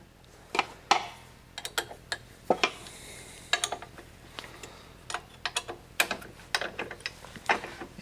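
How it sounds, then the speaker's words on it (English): An Allen key loosens bolts on Festool parallel guides, giving a series of sharp, close metallic clicks and ticks in an irregular rhythm, with a brief scraping rustle between them. "these 2 Allen key bolts right here that's how you zero the guides down. So I'm going to loosen these up."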